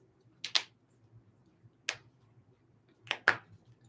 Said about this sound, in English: going to get these cards nice and shuffled